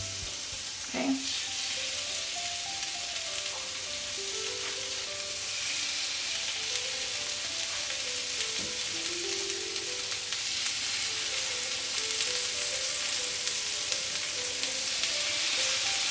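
Salmon kebabs sizzle on a non-stick grill with a constant hiss and crackle, close and steady, and a few soft knocks of placement at the start, with no one talking.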